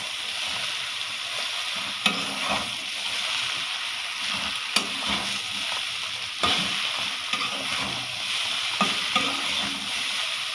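Bitter gourd and potatoes fry in a pan with a constant hiss, and repeated scraping and knocking strokes come through as the pieces are stirred and turned.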